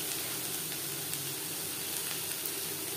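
Chopped onions frying in mutton fat in a pan, for a potato curry with mutton liver, give off a steady, fairly faint sizzle and hiss with a few soft crackles and no voices.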